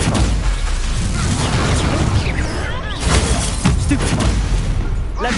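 Stupefy spells are cast in hard-mode combat in Hogwarts Legacy: loud, dense magical bursts, booms and crackling shatters pile up in quick succession, with no clear pause between impacts.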